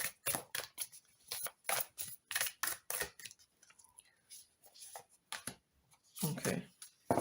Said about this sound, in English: I want to shuffle a little more.